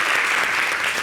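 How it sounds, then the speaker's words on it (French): Studio audience applause on a French-language television entertainment show, a steady, loud wash of clapping throughout the brief moment. "On peut applaudir pour elle."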